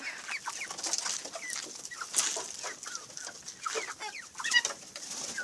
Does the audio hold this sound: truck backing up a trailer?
no